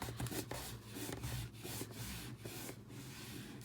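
Folded paper from a die cut is rubbed down firmly by hand, a close, steady run of dry scratchy friction strokes with a few soft bumps.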